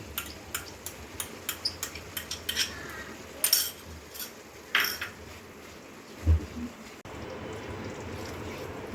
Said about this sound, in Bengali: টক দইটাকে চামচ দিয়ে একটু ঘেঁটে নিই